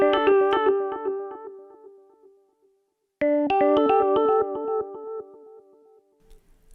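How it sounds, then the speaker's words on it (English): A Hologram Electronics Microcosm guitar pedal set to a basic echo: a plucked guitar phrase whose notes repeat and decay, fading to near silence before a second strummed phrase rings out and trails off, clean and alone. "now I want to listen to just a basic echo"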